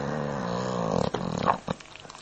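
English bulldog snoring close up, a steady rumbling snore with rough harmonic breaths that break into a few short snorts toward the end; no talking.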